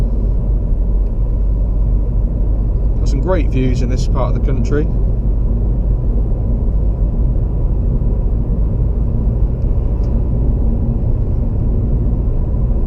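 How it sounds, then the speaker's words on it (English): Remapped 2016 Seat Leon FR 2.0 TDI driving along quiet country lanes, a constant loud low cabin rumble throughout with someone talking briefly over it. "as you can see, the car drives really well."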